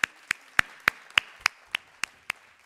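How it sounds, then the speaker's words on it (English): Applause at a medical conference, heard here as a series of about ten sharp, evenly spaced single claps, crisp and fairly close, with quiet between each. "deserves a big applause from all of us"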